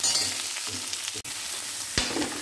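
Cauliflower, carrot, beans and capsicum stir-fry in a pan with a loud, steady sizzle broken by spatula scrapes and a sharp clack near the end, close and with no talking.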